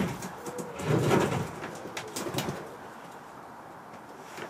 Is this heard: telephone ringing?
no